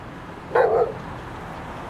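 A single short dog bark, fairly close, against a quiet outdoor background.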